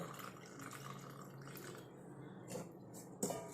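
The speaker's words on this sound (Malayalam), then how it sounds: "ഇതിലേക്ക് നമ്മൾ തിളപ്പിച്ച് വെച്ചിരുന്ന ചായയില്ലേ അത് ഇതിനകത്തേക്ക് ഒഴിക്കുക" Boiled tea is poured into a bowl of powdered hair-dye ingredients, giving a steady close trickle and splash of liquid that swells briefly near the end, with no talking.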